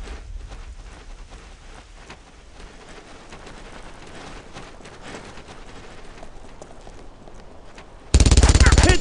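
Machine gun fire in the World War II shooter Brothers In Arms: Road to Hill 30 rattles steadily under battle noise and shouted voices, ending in a sudden loud, close burst.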